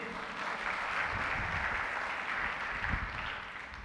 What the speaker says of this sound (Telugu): చప్పట్లు కొడదాం దేవునికి.